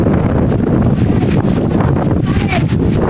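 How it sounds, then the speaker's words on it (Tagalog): Strong, steady wind roars and buffets the microphone, with a broad rushing noise throughout that may include surf at the shoreline. "Hangin kayo sa labas. Oh, tanawa, kusuking hangin sa baybayin"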